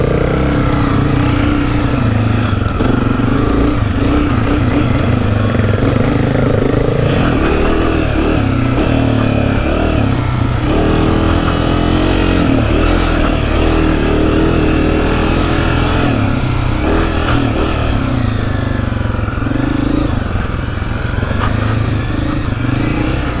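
Honda CRF250F dirt bikes ride off-road, their engines buzzing loudly and continuously with rising and falling revs, close to the listener.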